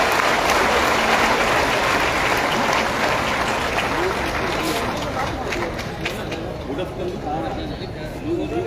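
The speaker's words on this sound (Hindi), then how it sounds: "जोरदार तालियों के साथ" An audience at a cultural club event applauds loudly, a dense, continuous wash of clapping that gradually thins toward the end, with a hum of crowd voices underneath.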